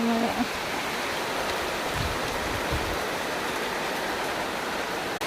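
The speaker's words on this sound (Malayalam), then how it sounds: "ഭയങ്കര മഴയാട്ടോ ഭയങ്കര മഴ" Steady, dense hiss of heavy rain pouring down, continuous and fairly loud throughout, with a brief thump near the start.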